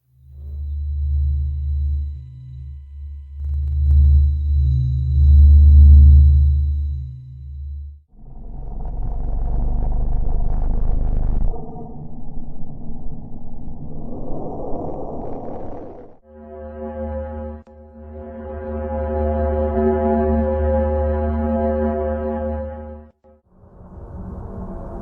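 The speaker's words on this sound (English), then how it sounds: "I have a little short video for you to watch of sounds from the universe" Recorded sounds from the universe: deep, rumbling drones and hums give way to sustained, layered harmonic tones that swell and shift in separate sections, loud and eerie with no voices.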